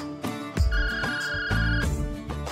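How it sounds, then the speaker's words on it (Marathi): A mobile phone plays a looping electronic ringtone melody, loud and near, repeating its tonal phrase several times without any voices. "फोन आलाय"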